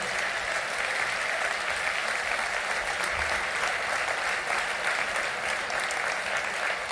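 An audience at the 2023 New Year's greetings ceremony in Mandelieu-La Napoule applauds, with dense, steady clapping that continues evenly throughout without speech.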